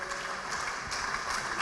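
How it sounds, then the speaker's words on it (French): A church congregation applauds Jesus during a Sunday worship service, a short burst of steady, moderately distant clapping that fills the room. "Acclame très très fort Jésus."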